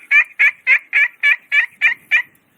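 An Original Spur Master hand-held turkey call mimics a hen turkey with eight loud, evenly spaced, raspy yelps in a steady rhythm, close and clear, with no voices over it.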